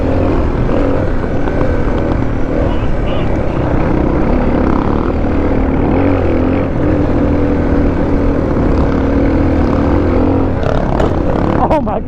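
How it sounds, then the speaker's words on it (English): A Suzuki DR650 motorcycle engine on a ride up a mountain drones loudly and steadily throughout, with a slight rise in pitch near the end. "I heard that rev come through your audio."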